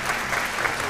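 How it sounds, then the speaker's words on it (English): A quiz show audience bursts into applause, a dense, even roar of many hands clapping close by, sustained without pause and with no talk over it. "Give them a big round of applause"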